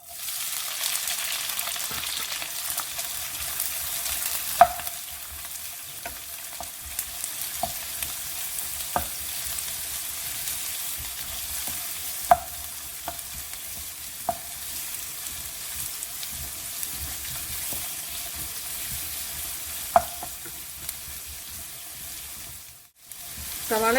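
Sliced onions sautéing in a pan for mushroom mutter masala, a soft continuous sizzle with scattered sharp ladle taps and clinks against the vessel.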